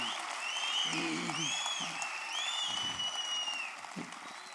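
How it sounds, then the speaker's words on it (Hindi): Scattered applause from the audience at a Hindi poetry gathering, a thin wash of clapping under high whistles and tonal sounds, with a few low voices breaking through now and then. "तालियां अभी भी कमजोर हैं, मेरे मतलब की तालियां अभी आई नहीं है।"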